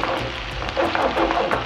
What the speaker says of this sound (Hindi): हल्का सा फ्राई किया है और ये अपनी वाइट शक्ल में आ गया